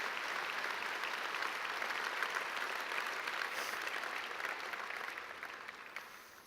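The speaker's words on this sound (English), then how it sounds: "Could we give him another big round of applause?" Sustained audience applause fills the hall at a church gathering, a dense, steady wash of clapping that holds loud and even before slowly thinning toward the end, with no voices over it.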